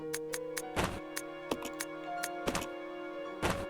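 A shotgun is reloaded in the video game Resident Evil 0: a string of sharp mechanical clicks and hollow thunks arrives in an uneven rhythm over sustained background game music.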